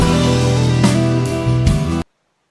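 Stock editing music of the kind used on YouTube, a sustained layered synth-pad chord with a couple of soft swells, playing alone and then cutting off abruptly into silence.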